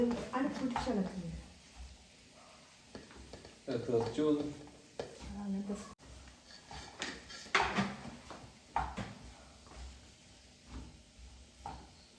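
Pickle spices being stirred and mixed in a pan, scraping and clattering in irregular bursts with a faint sizzle underneath, while people talk over it.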